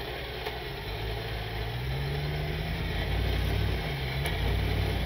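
A four-wheel-drive truck, stuck and being pulled, revs as the throttle is applied, its engine tone climbing and holding steady over a low rumbling idle, close and fairly loud.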